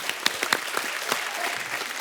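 An audience claps steadily at a comedy show with hockey players as guests, dense applause with a few sharper claps close to the mic and faint crowd murmur underneath.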